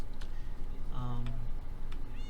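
Short in-game cat meows from Minecraft, a couple of brief tonal mews over a steady game background hum, fairly close and moderately loud.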